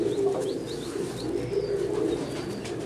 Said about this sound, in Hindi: तीसरा कबूतर है ये।